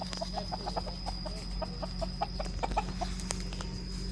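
Chickens cluck in a steady, rapid series of short, close clucks over a low background hum, with an occasional louder call breaking through.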